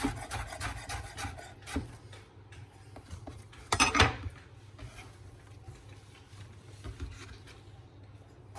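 Chef's knife slicing green courgette thinly on a chopping board for a noodle stir fry, a steady run of close, crisp knife strokes with a louder cluster of chops midway, no talking.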